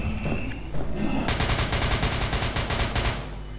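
Rapid bursts of automatic gunfire at a zombie infected by SCP-008 in SCP Containment Breach, as MTF soldiers open up with a loud, dense rattle of shots after a brief quieter lead-in.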